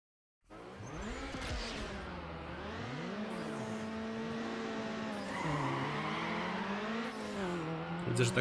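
Mitsubishi Eclipse engine in Need for Speed Underground revving high near 7000 rpm, a loud sustained whine that rises and dips repeatedly, close and alone without talk.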